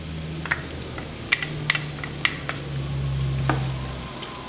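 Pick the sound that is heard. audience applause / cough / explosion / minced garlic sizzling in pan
minced garlic sizzling in pan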